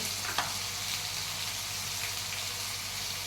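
Misal masala spices with turmeric and red chilli sautéing in a pan, a soft continuous sizzle with a brief clink near the start.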